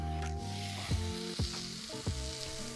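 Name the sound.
steak sizzling on griddle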